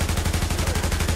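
Gunfire in the video game The Division, heard as a rapid, steady string of loud, close shots that repeats evenly through the whole stretch with no talk over it.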